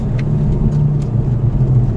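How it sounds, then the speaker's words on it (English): Aston Martin DB11 V8 engine in sport mode, a steady deep rumbling drone with a little rough pulsing, heard loud and close, with no talk. "now the engine is it's now a bit more aggressive"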